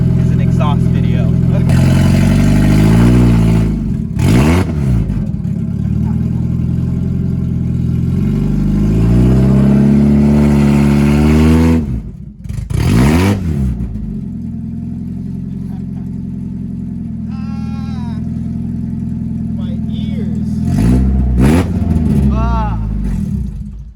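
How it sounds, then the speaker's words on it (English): A 1992 Mazda Miata NA with its exhaust removed, revved hard and very loud at close range. Its raw, blatty engine note rises and falls in repeated bursts, then settles into a rough, droning idle with a few brief voices. "So needless to say, the exhaust is already off, as you guys heard."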